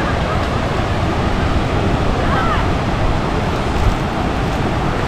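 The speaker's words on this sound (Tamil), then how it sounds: "அப்படியே இங்கே லைட்டாக வந்து தண்ணி தேங்கி சல்லுன்னு இறங்கி அப்படியே போகுது கீழே" River water in Papua New Guinea spills over a small natural dam with a loud, steady rush that runs on without a break.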